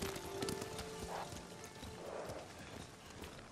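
Horse hooves clip-clop at a steady walking pace in the video game Ghost of Tsushima, soft and fairly quiet over a low ambient background.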